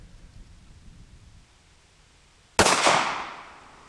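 A single loud 9mm Federal Hydra-Shok pistol shot fired outdoors into ballistics gel, a sharp close crack after quiet background, followed by a long fading echo.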